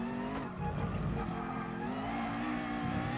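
A race car engine in the Gran Turismo Sport video game revs high and loud, its pitch climbing and holding steady with a continuous roaring whine throughout.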